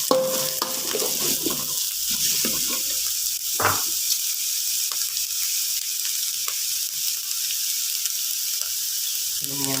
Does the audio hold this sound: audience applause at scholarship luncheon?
no